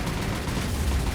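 Explosions and gunfire from the naval war game War on the Sea, heard as a continuous dense rumble of booms and firing, loud and steady throughout with no talk.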